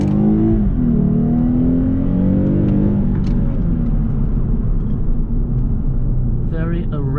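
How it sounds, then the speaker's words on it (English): Engine of a 2015 Lexus IS350 AWD pulling hard under aggressive acceleration in sport mode, a loud steady low roar with rising tone, while a person talks over it throughout. "Very aggressive acceleration in sport mode."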